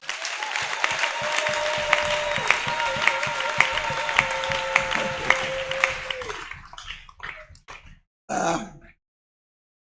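A church seminar congregation breaks into loud, sustained applause and cheering, with a steady tone running beneath. The ovation fades into scattered claps and one last short burst before silence.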